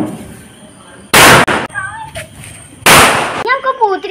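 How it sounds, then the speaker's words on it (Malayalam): Firecrackers set off at home for an Eid celebration burst twice, each a loud, sharp crack a couple of seconds apart, with people talking and calling out between the blasts. "പടക്കം പൊട്ടിക്കണേ നമുക്ക് കുറച്ച് പടക്കമൊക്കെ ഇക്കൊക്കെ വാങ്ങിച്ച് വെച്ചിട്ടുണ്ട്"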